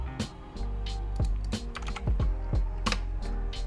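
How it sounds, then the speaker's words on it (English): Fingers type a passphrase on a computer keyboard, a quick, uneven run of sharp key clicks with brief pauses between bursts, close and fairly quiet over a steady room hum. "So I'm gonna have to put in a passphrase."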